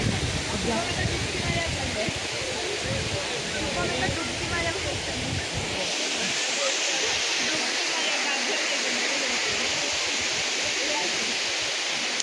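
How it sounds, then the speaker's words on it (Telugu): Tatiguda waterfall roars as a constant, dense rush of falling water, loud and close, broadband and unbroken, with a voice talking over it in the first half. "గైస్ ఎలా ఉంది తాటిగూడ వాటర్ ఫాల్స్?"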